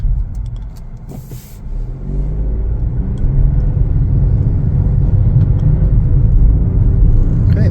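A 2025 Chevrolet Trax 1LT driving on a test drive, with a steady low road and engine rumble inside the cabin that swells slightly as the car gathers speed, plus a few faint clicks early on.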